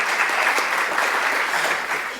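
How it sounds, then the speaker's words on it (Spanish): Steady applause from a crowd, dense and continuous clapping that fades slightly toward the end. "Se merece un aplauso"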